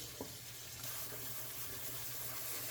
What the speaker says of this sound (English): dump the noodles in there and run cold water on immediately